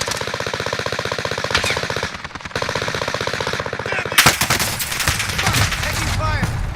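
Rapid automatic gunfire from an enemy soldier in a video game rattles in dense, loud bursts, breaks off briefly, then returns with heavier impacts and scattered shots.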